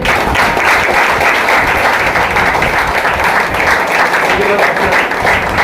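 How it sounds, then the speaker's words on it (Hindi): A congregation at a Hindi-language gospel gathering claps loudly and continuously, a dense, steady wall of applause lasting the whole moment. "समय प्रभु को धन्यवाद देंगे, जोर से ताली बजाएंगे।"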